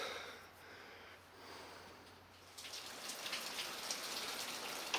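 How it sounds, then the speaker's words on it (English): Rain starting outdoors, a faint soft hiss of drops that thickens and grows denser partway through, distant and low in level. "Yeah, started raining."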